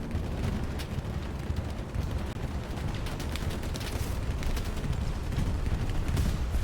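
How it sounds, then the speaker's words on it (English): Bombing run explosions in the Hell Let Loose WWII shooter on the Foy map, a dense continuous roar of blasts and rumbling detonations with sharp cracks layered on top, loud and unbroken throughout. "Enemy bombing run coming in. Take cover. Bombing run."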